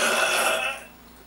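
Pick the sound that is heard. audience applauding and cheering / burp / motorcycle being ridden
burp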